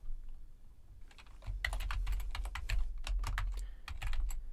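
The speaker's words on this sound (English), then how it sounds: "All I do is start typing." Keys clack on a computer keyboard in quick irregular bursts, crisp close taps coming in a busy stream after a brief quiet start.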